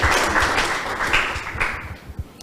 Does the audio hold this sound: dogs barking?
no